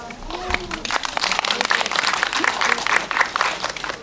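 Audience applause at a film talk event following a screening, a dense, steady burst of many hands clapping close by, with some voices mixed in.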